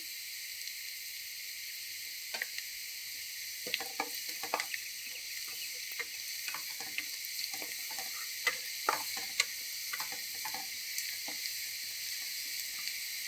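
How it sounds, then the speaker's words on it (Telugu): Sliced onions frying in a pan for a bottle gourd milk curry give a steady faint sizzle with scattered soft crackles and stirring clicks, no voices. "కొంచెం వేగాయి కదండి ఉల్లిపాయలు"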